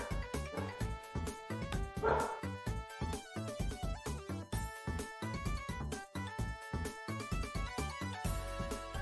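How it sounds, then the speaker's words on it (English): A dog barking, with rapid yips and bow-wow calls repeating in quick, uneven bursts, loud and close, heavily harmonic and almost continuous, with no one talking. "You know the sound of dog well."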